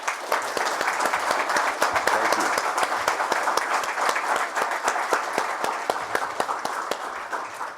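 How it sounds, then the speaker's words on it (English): A room full of people at a dairy farm program applauding, dense steady clapping that carries on for several seconds, loud and close, with no voices rising above it. "would you please join me in a round of applause"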